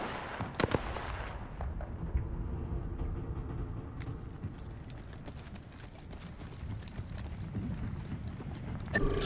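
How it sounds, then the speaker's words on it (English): Gunfire in a shooter video game, with scattered bursts of sharp shots and clicks over a steady rumbling background, fairly near and moderately loud, and no talking. "Firing on subjects."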